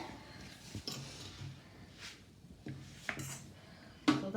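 A fork stirring egg fried rice in a pan, giving soft scraping sweeps and a few light metallic clinks and taps spread irregularly, fairly quiet.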